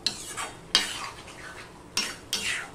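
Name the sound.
stirring ridge gourd and potato with poppy seed in pan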